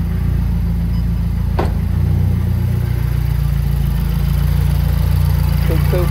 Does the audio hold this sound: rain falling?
no